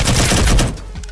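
Gunfire in a video game, a dense burst of rapid shots crackling loudly for under a second before trailing off into a fainter pop.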